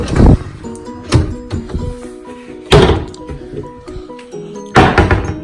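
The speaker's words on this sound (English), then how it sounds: "Another slide out drawer." Slide-out kitchen drawers in an empty new apartment are pushed shut, giving several loud hollow thunks at irregular intervals, each followed by a brief ringing rattle in the bare room.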